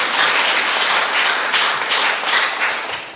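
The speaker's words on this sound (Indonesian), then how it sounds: "Tepuk tangan buat Tuhan dulu ayat ini." A church congregation in Jakarta breaks into a brief, lively burst of hand clapping during a sermon, a close, steady wash of many hands that tapers slightly at the end.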